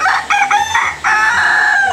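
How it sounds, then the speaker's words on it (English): Close, loud rooster crowing at dawn in a Khmu hill village in northern Thailand, two crows in quick succession with no talk. "There were many roosters about, and they crow at 4:30 a.m., 5:30 a.m., and again at sunrise."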